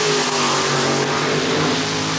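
A rear-engine mud racing car roars loud and close at a dirt track, its engine revving hard with a dense, sustained blare and no break in the noise.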